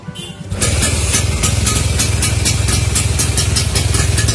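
A Vespa Super Sprint scooter with CDI ignition, cold from sitting, is kick-started and catches at once, then settles into a loud, close, steadily pulsing two-stroke idle with no talking.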